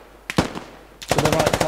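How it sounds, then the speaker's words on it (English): Machine gun fire in the video game Squad: a single short shot near the start, then from about a second in a fast, loud, steady automatic burst with evenly spaced rounds running to the end. "To your right, MG."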